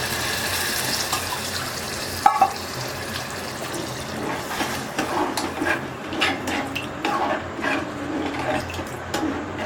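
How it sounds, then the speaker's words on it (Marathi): Water runs steadily into a cooking pot of misal with a sloshing, splashing texture, a sharp clink near the start, and faint kitchen handling noises throughout. "2 कप पाणी सोडायचं आहे"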